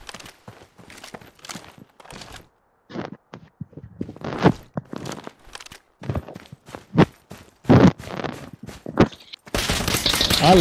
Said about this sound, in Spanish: disparo por acá enfrente